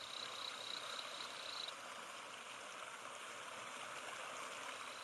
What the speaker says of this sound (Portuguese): o rugido constante da catarata